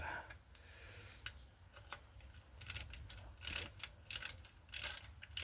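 A wrench nipping up four bolts on a modern bike gives repeated ratcheting clicks in short bursts, some louder near the end, over a low steady hum with no talk.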